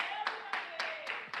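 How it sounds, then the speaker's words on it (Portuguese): A church congregation claps in a round of applause for Jesus during a sermon, a few uneven bursts of hand claps rising over a sustained voice that carries through. "Uma salva de palmas para Jesus"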